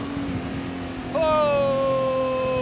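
A Honda Gold Wing flat-six 1.8-liter motorcycle engine idles low, then is blipped sharply and rises in pitch, ringing out loudly before settling into a sustained revving hum.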